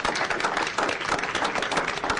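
Applause from the audience at a Douglas County, Nebraska board of county commissioners meeting: steady, dense clapping from many hands, fairly close and continuous throughout.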